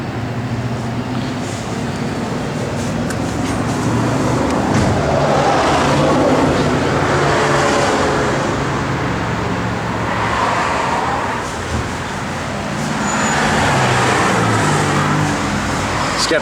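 A 1970 Plymouth Barracuda's 440 V8 with a Holley four-barrel carburetor idles and revs, a loud rumbling engine note that swells and eases over several seconds with no one speaking.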